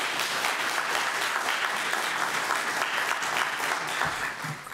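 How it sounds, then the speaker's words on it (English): Applause breaks out among the audience at a planning commission public hearing on a solar project, a loud, sustained wash of clapping that holds steady throughout. "If we can all hold applause, this is not the place for the applause."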